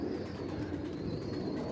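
A teddy pigeon coos softly and steadily, close by, low throaty murmurs over a faint background hum.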